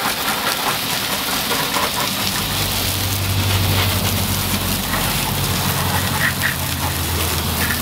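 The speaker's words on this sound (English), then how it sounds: "If I hit this with a power washer, I know that it's gonna look like spotless" A power washer sprays a car wheel at a steady distance, producing a loud, unbroken hiss of water spray with a low engine drone underneath for the whole stretch.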